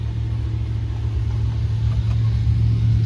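A 575-horsepower 407-cubic-inch V8 street engine on pump gas running at close range, a deep, steady rumbling drone that holds an even pitch throughout.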